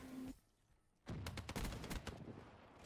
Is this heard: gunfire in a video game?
yes